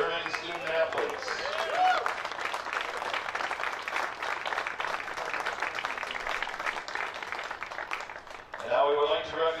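Audience applause for the 2008 NCAA Mid-East Regional baseball all-tournament team, a steady crowd clapping that fills the whole stretch with dense, even texture, continuing loud throughout and easing slightly near the end.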